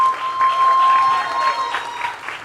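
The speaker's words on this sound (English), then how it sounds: "Let's hear it for Vijay Varma." Audience applause at a televised Indian awards event, a dense sustained clapping from a large crowd filling the hall, steady throughout with slight swells.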